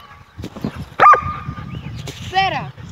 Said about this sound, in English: Hey, you better stop barking.